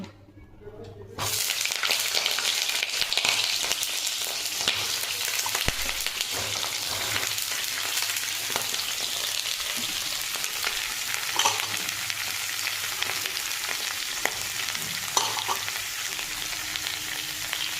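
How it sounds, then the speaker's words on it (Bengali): Cauliflower florets and diced potato fry in hot oil in a wok, a loud, continuous crackling sizzle that starts abruptly and holds steady, with occasional stirring scrapes and faint talk underneath. "আলু আর কপিটা তেলে ভাজবো"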